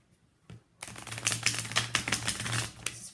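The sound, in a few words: shuffling cards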